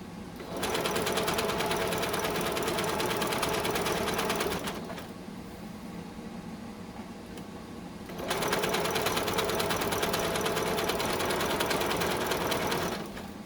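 A sewing machine stitches a face mask tube in two long, steady runs separated by a short pause, close and even, with no talking.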